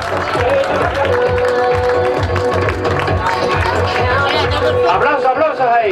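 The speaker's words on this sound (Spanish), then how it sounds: "Aplausos, aplausos ahí." A crowd applauds and cheers the champions at an enduro race award ceremony in Villa de Teror, with steady, loud clapping and chatter under amplified talk.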